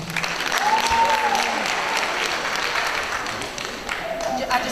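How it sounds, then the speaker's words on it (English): Audience applause at a graduation ceremony as a graduate walks out, sustained clapping from a crowd with a voice speaking faintly underneath. "they just clapped when you walked out"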